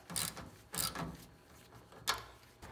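Faint mechanical clicks and ratcheting from a tool tightening the bolt on a rear link bushing of a 1980-1996 Ford Bronco during leaf spring replacement, heard as a few soft, separate bursts.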